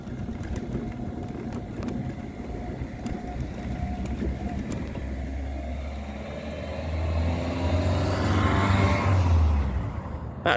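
Electric scooter motor labouring under heavy load as the battery sags, a steady near whine with rough low rumble that swells louder toward the end, no talk over it.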